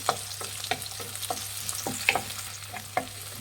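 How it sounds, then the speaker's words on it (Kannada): Cut green chillies fry in a pan over medium flame, giving a continuous sizzle with regular spatula scrapes and taps roughly every half second, close up. "ಕಟ್ ಮಾಡಿಬಿಟ್ಟು ಹಸಿಮೆಣ್ಸಿನ್ಕಾಯಿನ ಅಷ್ಟೇ ಫ್ರೈ ಮಾಡಿ."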